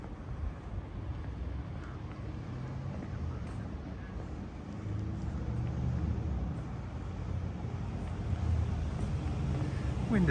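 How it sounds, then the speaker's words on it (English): Wind buffets the microphone during a street walk from Futakotamagawa toward Yoga in Tokyo, making a steady low roar mixed with distant traffic hum that swells slightly louder toward the end. "Wind isn't too bad."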